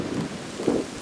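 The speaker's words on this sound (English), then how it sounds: "sorry, I'm in a windy place and we're on a hill" Gusts of wind blow across the microphone on a windy hilltop, making a low, buffeting rumble with a few louder puffs across one brief moment. No voice is heard.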